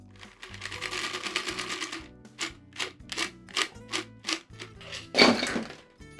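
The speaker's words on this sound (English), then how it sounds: "now we're going to shake it again to really develop that foam" Ice and egg whites rattle inside a cocktail tin as a White Lady is shaken, a close series of rhythmic percussive shakes that pause and resume, ending with one sharp clatter.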